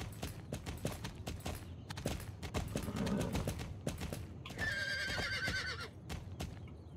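A horse in the Star Stable video game neighs loudly, mixed with rhythmic clip-clopping hooves and a bright, tonal game sound effect near the middle.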